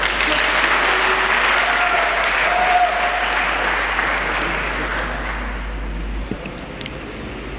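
A mushaira audience breaks into loud, sustained applause. The dense clapping fills the hall evenly and fades slightly over the last couple of seconds.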